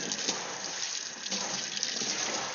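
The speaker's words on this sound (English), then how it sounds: "I need to rinse some water down that sink." Water is rinsed down a sink, a steady close splashing rush from a running tap that continues throughout with no talking.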